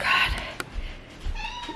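A house cat gives a short meow in a kitchen, close and fairly clear, with some faint background noise.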